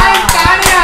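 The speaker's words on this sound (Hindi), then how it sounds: "और तालियां बजाओ" Hands clap in a quick, close, loud run of a few sharp claps, with no talking.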